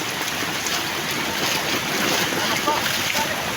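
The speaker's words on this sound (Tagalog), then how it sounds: "So bali dito ang lakas-lakas na ng tubig." Strong mountain floodwater rushes past in a loud, continuous broadband roar, steady and close, carrying drifting wood, while a voice is faintly present beneath the torrent.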